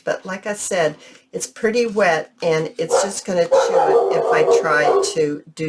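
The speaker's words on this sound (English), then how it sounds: "Sorry about the dogs, guys." Dogs barking and whining in the background beneath a person talking indoors during a paper-crafting session, with the yelps and howls mostly buried under the steady speech.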